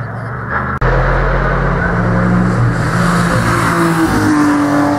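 A BMW race car at the 2019 Oberlausitz triangle race roars loudly and close by. After a brief cut, a sustained engine drone follows with shifting pitch.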